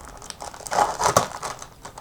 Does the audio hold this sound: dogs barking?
no